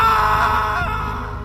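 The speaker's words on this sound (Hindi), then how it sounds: "फिर एक तेज चीख की आवाज आती है, इतनी तेज कि पूरे गेस्ट हाउस में गूंज गई।" A loud scream in a horror story echoes through a guest house, a sustained wailing cry that slowly fades over a second and a half, heard alone.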